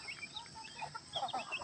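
Farmyard chickens cluck in brief overlapping calls, a small flock nearby and moderately loud with no one speaking, alongside ducks and goats on the same farm.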